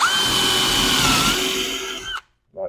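A power drill boring holes into a kitchen base unit, whining steadily and loudly up close for about two seconds, then cutting off abruptly, followed by a short second burst.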